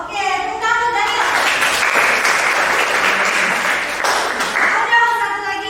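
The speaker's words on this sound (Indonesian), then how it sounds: "Tepuk tangan Daniel." Classroom applause for a student who has just finished at the front, a dense burst of many hands clapping for several seconds, loud and steady before tapering off, with children's voices faintly mixed in.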